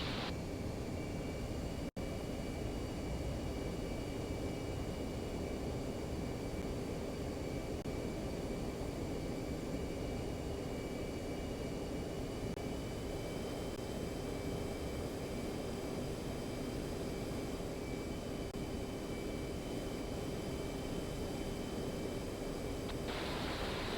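An F-15C jet taxis toward a runway for takeoff at an airbase in the DCS flight simulator, giving a steady, loud engine whine and broadband roar with high tonal hums that hold unchanged throughout.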